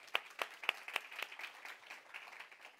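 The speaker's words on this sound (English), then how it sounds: "Let us give the biggest clap offering to the Lord." A church congregation gives a clap offering at a Christmas service, sharp distinct claps at first settling into a softer, looser patter, fairly quiet and without speech.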